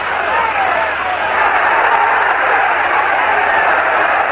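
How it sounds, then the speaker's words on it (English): Loud, steady roar of an outdoor boxing stadium crowd during a round in a drenching downpour in Puerto Rico, a dense wall of cheering and shouting that holds level throughout with no pauses. "This crowd is alive."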